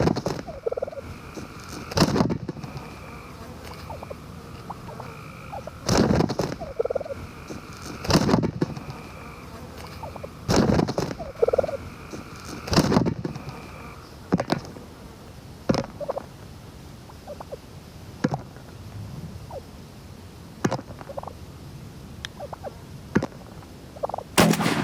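A wild turkey gobbler gobbles repeatedly during a Kentucky turkey hunt, several loud rolling gobbles at intervals. Fainter clucks and calls fill the gaps between them.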